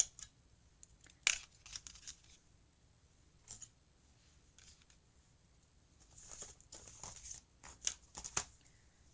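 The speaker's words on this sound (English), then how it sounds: "I'm going to cut out the second B" Scissors snip through paper to cut out a letter B, with faint, irregular crisp snips and rustles at close range in a quiet room.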